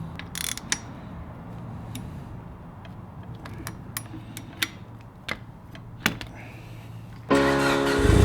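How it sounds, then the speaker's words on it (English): A hand ratchet clicks in short, irregular bursts while bolting a part onto a turbo upgrade on a Mitsubishi Evo IX, the clicks close and sharp over quiet shop ambience, ending in a loud burst of broadband noise. "now we're gonna just bolt it on and be done with this little part right here"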